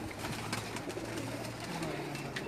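A pigeon on a rooftop loft in Jeddah, Saudi Arabia, gives low repeated coos, close and fairly clear over a steady background hum.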